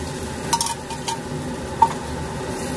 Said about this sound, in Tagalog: Ayan, ihalo mo lang.